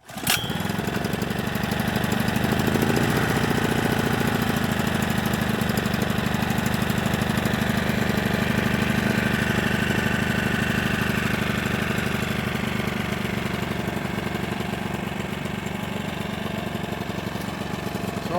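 A Firman portable generator idles with its choke on while warming up, a steady, close, rumbling engine drone that runs continuously and alone with a slight knocking throb.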